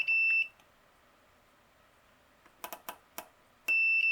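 A multimeter gives sharp continuity beeps while its probes run along the serial port pins on the back of a Sega Dreamcast. Two steady electronic tones frame the clip, one at the start and one at the end, with soft clicks and taps in between.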